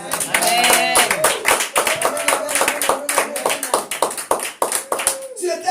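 A sermon audience applauds with dense, rapid clapping from many hands while a voice carries on over the applause.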